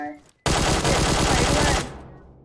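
Automatic gunfire in PUBG Mobile: one loud, close burst of rapid shots lasting about a second and a half, then a fading tail.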